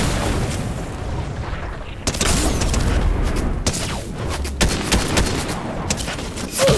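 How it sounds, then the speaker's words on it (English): Repeated booming blasts and gunfire-like bursts from incoming missiles in Fortnite, loud and close, with sharp onsets around two, three and a half, and four and a half seconds over continuous rumbling battle noise. "Okay, no, missile incoming."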